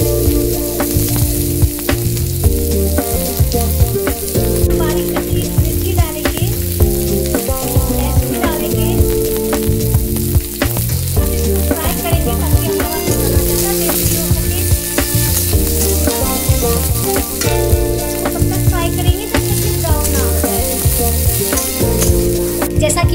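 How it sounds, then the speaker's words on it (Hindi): Chopped onions sizzle steadily in hot oil in a pan while the spiced potato filling for aloo paratha gets started, a constant loud frying hiss with occasional stirring clatter and no voices. "पहले थोड़ा तेल डालेंगे, तेल गर्म हो गया है। अब इसमें प्याज डालेंगे,"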